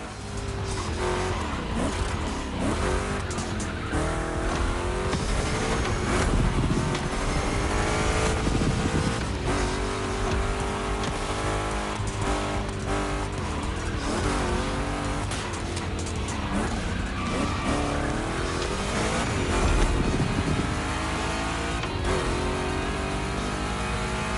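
Two Chevy big-block cars race in The Crew Motorfest, a continuous loud engine roar with revving shifts and tire noise sustained throughout, no voices.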